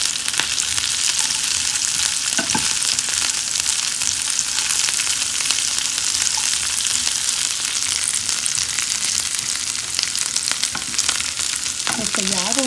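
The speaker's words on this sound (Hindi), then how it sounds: "इसके बाद इसमें सेवइयां घी में फ्राई करते हैं" Vermicelli frying in hot ghee for sheer khurma, a steady dense sizzle that holds loud and even throughout with no talk, a faint stir or two near the end.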